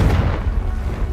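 A Confringo spell in a Harry Potter video game sets off a short, deep explosive boom with a rumbling low-end tail, loud and close.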